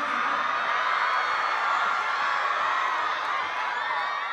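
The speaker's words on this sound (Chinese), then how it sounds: "所以再次把掌声送给三位哥哥" A large audience at a televised Chinese music-and-dance stage show applauds and cheers together, a dense, steady wash of clapping and crowd noise sustained at full loudness throughout with no pauses.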